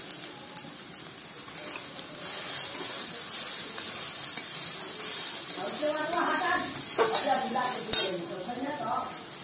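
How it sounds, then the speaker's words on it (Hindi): Grated beetroot frying in a pan, a soft continuous sizzle with some stirring and a brief clink near the end, fairly close and moderate in level. "ये चुकंदर डालेंगे"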